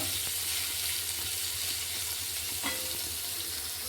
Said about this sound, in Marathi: कांदा भाजून घ्यायचा चांगला. तोपर्यंत आपलं कारलं पण छान फ्राय होतंय.